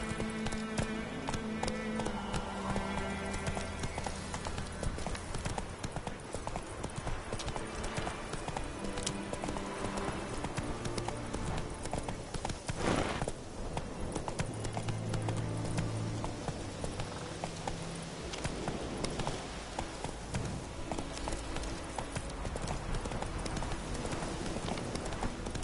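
Roach the horse galloping in The Witcher 3, a fast, steady clip-clop of hooves running continuously and loudly for the whole stretch, with game music and ambience beneath and occasional snorts.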